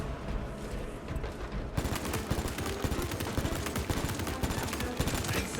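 A heroic bolt pistol in Space Marine 2 fires a rapid, relentless stream of heavy shots. A brief quieter lead-in gives way to dense, loud, evenly spaced gunfire that continues to the end.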